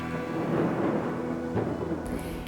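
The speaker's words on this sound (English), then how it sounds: "producing an explosive clap of thunder" A deep rolling rumble of thunder fills the air, loud and sustained, with a brief sharper crack near the end.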